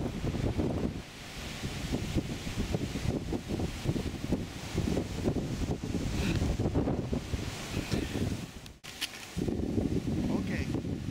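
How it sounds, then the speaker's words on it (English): Strong wind buffets the microphone in a constant low, rumbling roar, with muffled voices partly buried beneath it. "Even though it was quite windy this day"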